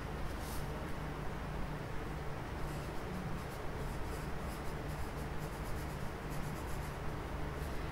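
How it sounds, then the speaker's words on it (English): Pen scratching across a notebook page in a steady, soft rasping stroke that runs continuously at close range, with no talking. "I'm going to write it down on my notebook"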